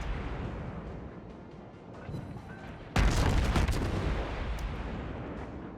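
Warship guns firing high-explosive shells in the World of Warships video game: a quieter rumble of battle, then a sudden loud close boom followed by sustained heavy gunfire and rolling blasts.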